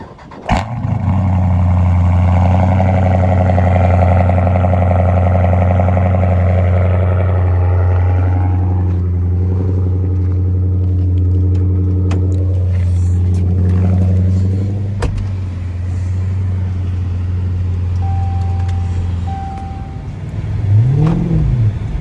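A 2012 Dodge SRT 392 V8 fires up loudly, settling into a deep, rumbling high idle that holds steady for many seconds before easing down, close and powerful, with a brief rising whine near the end.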